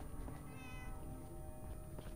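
A cat meows in Fallout 4, its wavering, drawn-out cry rising over a dense, steady game soundscape with no talk.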